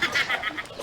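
A brief run of nasal, honking chicken calls, several quick clucks in a row, close by.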